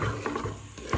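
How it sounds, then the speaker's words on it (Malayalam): A spoon works through fish curry in a pan with a short, close scrape and gentle bubbling sizzle, two quick strokes over about a second. "എന്നിട്ട് ഇത് നല്ലതുപോലെ ഒന്ന് ഇളക്കി കൊടുക്കണം"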